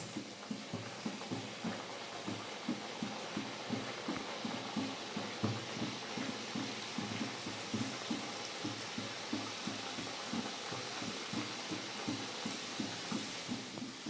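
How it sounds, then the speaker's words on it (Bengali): Nimki, a Bengali flour snack, deep-frying in hot oil in a wok, a steady faint sizzle with regular soft stirring taps throughout. "এগুলো ভালো করে ভেজে নেব।"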